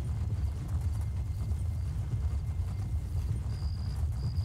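Horse hooves clip-clopping at a steady riding pace in the Elder Scrolls Online game, a continuous rhythmic thudding under low ambient music.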